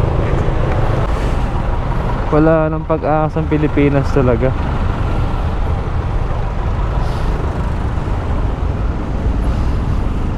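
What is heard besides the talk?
heavy road traffic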